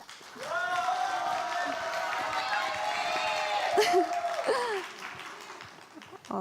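An audience at a volunteer Ignite talk event applauds to welcome a speaker onto the stage, a sustained wash of clapping from a crowded hall that swells and then fades out.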